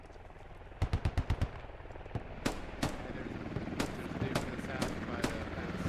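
Gunfire in the Squad video game during a tank battle at Yehorivka: a quick burst of four or five automatic shots, then scattered single rifle cracks and distant shots over a low rumble of battle.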